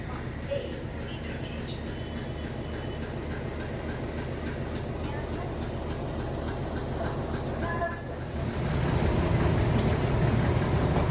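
A three-coach meter-gauge passenger train runs from Junagadh toward Sasan Gir, its steady rumble and wheel clatter filling the carriage and growing louder near the end, with voices faintly mixed in.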